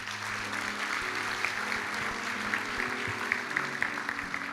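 Audience applauding at a church service, a steady wash of clapping hands that holds evenly throughout with no voices over it.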